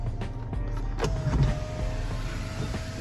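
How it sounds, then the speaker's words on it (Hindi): Electric sunroof motor on a Toyota Corolla Altis 1.6 opening, a steady whirring drone running throughout with a slight swell midway, heard close inside the cabin without talk. "इसमें सनरूफ सिस्टम दिया हुआ है"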